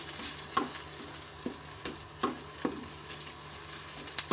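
Chicken bread filling with coriander is stirred in a pan, giving a steady soft sizzle broken by several scraping spoon strokes at uneven intervals, close and fairly quiet, with no talking.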